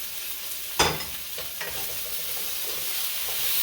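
Shrimp and seasoned pork chop fried rice stirred constantly in a hot pan, with a steady close sizzle and scraping stir strokes, including a sharp clatter near the start.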